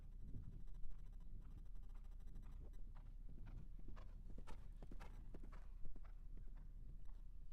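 Polo horse hooves clip-clop on the field during a warm-up before a match, a faint, fairly distant, irregular series of thuds and clops under light ambient noise.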